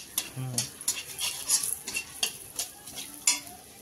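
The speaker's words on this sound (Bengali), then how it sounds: "মেথি ফোড়ন দিয়ে দিলাম, দেখ সুন্দর একটা গন্ধ বেরোচ্ছে" Fenugreek seeds frying in oil for tempering a fenugreek-leaf dish, a light sizzle under a series of sharp, irregular spoon scrapes and taps against the pan, close up.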